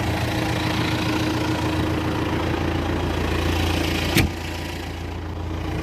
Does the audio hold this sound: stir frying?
no